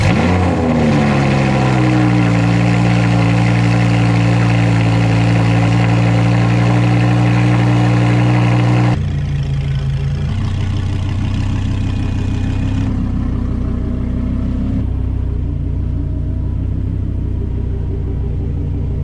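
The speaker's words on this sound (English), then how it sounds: "You guys wanna see a cold start on the Audi R8. Enjoy the sounds of V10." Audi R8 V10 cold start: a loud, deep burst of revs that holds high for several seconds, then drops abruptly to a lower, steady idle rumble close by.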